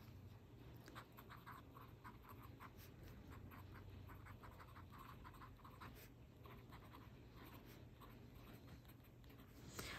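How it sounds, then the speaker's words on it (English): An extra fine Twsbi fountain pen nib scratches across paper in quick, soft strokes, a faint dry rasping with repeated short bursts over a steady low room hum, close to the ear with no talking. "with this particular extra fine Twisby nib, it sounds like a sailor"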